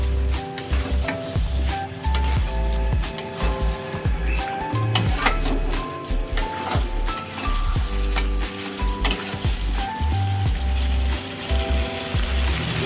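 Mutton cooked with a little tomato and sour yogurt sizzles and is stirred in a pan, with repeated scraping and clattering of a spoon against the metal over a steady frying hiss, loud and close.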